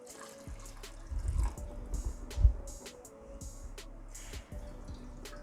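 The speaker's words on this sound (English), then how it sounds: "Now we'll be adding 3 cups of water." Water is poured into a cooking pot for chana dal khichdi, making soft splashes and scattered drips that are faint and close.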